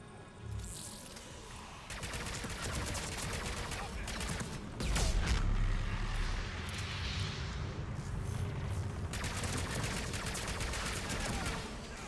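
Raptor rifle fire in a Mass Effect 3 multiplayer match: repeated rapid bursts of sharp shots over a constant hum of game background noise.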